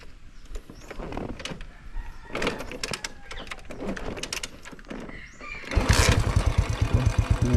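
An old Rusi motorcycle is kick-started and catches near the end, its small engine settling into a loud, steady, rapid putter after several seconds of faint clattering and handling noises.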